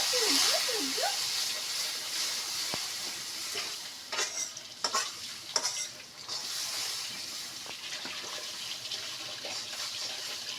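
Spice paste of onion, ginger, garlic, turmeric and cumin with a splash of water sizzles loudly in a pan, stirred with bursts of scraping and bubbling over a constant frying hiss.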